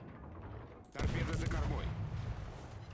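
A heavy burst of naval gunfire from a warship in World of Warships erupts suddenly and loudly, followed by a rumbling booming tail.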